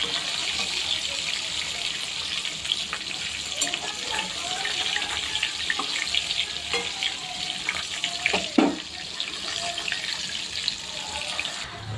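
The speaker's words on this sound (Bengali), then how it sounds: "এক পিঠ যেহেতু ভাজা হয়ে গেছে, এবার আর এক পিঠ তো ভাজতে হবে" Fish fries in a pan with a continuous broad hiss of hot oil, steady and close, with scattered crackles and a brief louder spatter near the middle.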